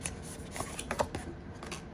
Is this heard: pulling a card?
yes